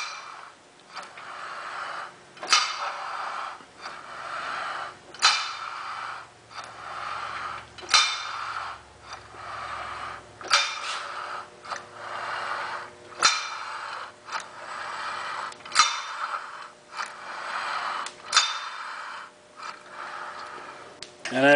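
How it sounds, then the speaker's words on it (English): A Franz Reuleaux over-running sprag clutch with tapered shoes and rollers is spun back and forth, giving a repeating cycle of soft mechanical clicks and creaking swishes every couple of seconds, close and fairly quiet. "you can see the functionality of the tapered shoes and rollers grabbing the center core as you spin it back and forth"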